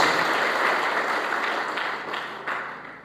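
Church congregation applauding during a sermon, a dense wash of many hands clapping steadily for about three seconds, fading slightly toward the end.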